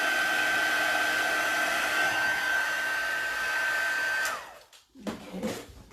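Heat gun blowing hot air to melt embossing powder on a gift bag, a steady whirring roar with a faint whine that cuts off abruptly, followed by light handling noises.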